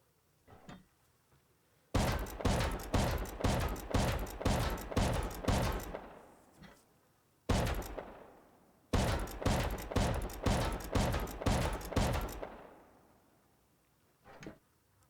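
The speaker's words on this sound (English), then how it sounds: "Looks like we got another shotgun trap to deal with." Shotgun trap in Rust, set on a base away from land: two long volleys of rapid, evenly spaced loud blasts, each volley about eight or nine shots with a ringing tail, separated by a single blast and by brief quiet.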